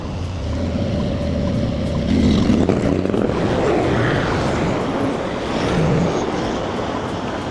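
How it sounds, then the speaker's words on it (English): Road traffic passing near Byford, Western Australia, at sunset, heard as a continuous broadband engine and tyre roar that swells and fades as vehicles go by, loud and steady with no talk. "It's actually a lot of traffic here."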